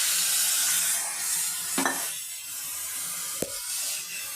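Milk poured into grated carrot frying in a pan for carrot halwa makes a continuous close sizzle and hiss, with a couple of sharp utensil clinks against the pan.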